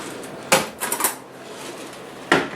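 A fork clinks and scrapes against a plate while slicing through a biscuit topped with sausage gravy, two sharp close metallic hits with a short rattling scrape between them.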